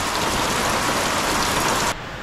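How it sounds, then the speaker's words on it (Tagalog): Heavy rain pours down steadily in a dense, loud broadband roar that runs unbroken for nearly two seconds and then drops off abruptly to a quieter hiss, with no voices. "hanggang sa ngayon ay bumubuhos pa rin po yung ulan"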